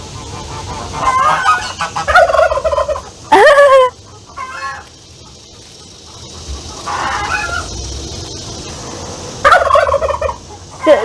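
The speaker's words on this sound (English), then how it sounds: "That's the male turkey." A male turkey gobbles in repeated bursts on a colonial plantation farm, loud and fairly close, with other fowl calling and honking between the gobbles.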